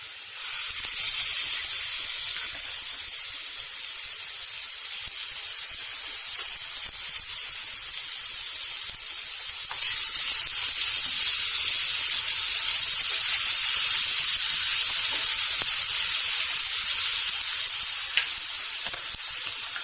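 Cumin and chili paste sizzle steadily in a hot frying pan for a spicy fish and potato curry, a loud, continuous hiss with the stirring growing a little stronger partway through, and nobody speaking.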